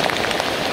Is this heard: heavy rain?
yes